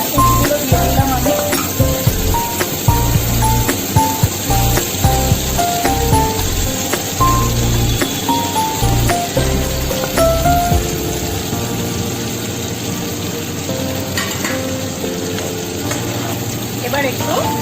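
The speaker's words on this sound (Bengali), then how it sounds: "পেঁয়াজ রসুন ভালো করে আমি ভেজে নেব" Chopped onion and garlic paste frying in hot oil for chili chicken, giving a loud, close, continuous sizzle broken by rhythmic spatula stirring and scraping, with steady background music.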